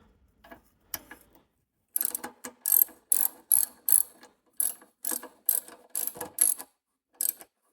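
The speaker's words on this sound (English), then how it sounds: "Just gonna go ahead and push on it a little bit. Hopefully we start cutting new threads." Helicoil thread-cutting tool turned by a ratchet wrench in the stripped spark plug hole of a snowblower engine, giving a series of close, crisp ratcheting clicks in short bursts with small gaps between.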